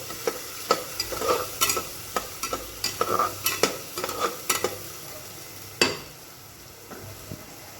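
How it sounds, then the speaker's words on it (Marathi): Red chili powder, black chili powder and garam masala sautéing in a pan for a chawli bhaji, heard as a faint sizzle under repeated spoon stirs and scrapes against the metal, with no talk. "लाल तिखट काळं तिखट आणि गरम मसाला घेतला आहे ते आता आपण टाकून घेऊया आणि पुन्हा एकदा चांगलं परतून घेऊया"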